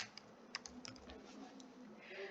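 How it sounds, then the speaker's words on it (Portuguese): Soft keystrokes patter irregularly on a computer keyboard, faint and close, with a low room hum beneath. "eu vou digitar material"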